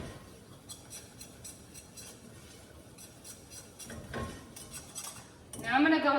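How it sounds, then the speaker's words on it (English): A whisk scrapes and clinks against a pot while flour and spices are stirred into a paste, a soft continuous rattle with a louder clatter near the end. "I'm gonna whisk it around and let it make a paste and get nice and thick."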